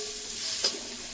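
Bengali spice paste being fried and stirred for a bata fish curry with okra, a steady soft sizzle with one brief louder scrape of the spoon partway through, no talking.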